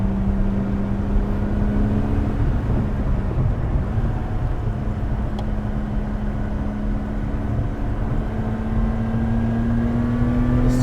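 A Lotus Exige Sport 410 engine on the Goodwood motor circuit track, a steady loud drone with a rising whine as the car accelerates, heard from onboard amid constant wind rush.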